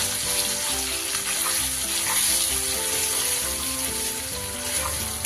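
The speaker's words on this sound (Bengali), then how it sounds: "এবার খুব ভালো করে শিমটা তেলের ওপরে আমাকে নেড়ে নিতে হবে" Flat beans stirred and frying in oil in a pan, a dense continuous crackling sizzle that stays loud and close throughout, with faint stirring underneath.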